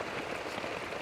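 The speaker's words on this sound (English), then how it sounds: "You don't see rain like this in the UK." Heavy monsoon rain falling in a Malaysian jungle, a dense, constant hiss of drops drumming on surfaces with no break, steady and enveloping.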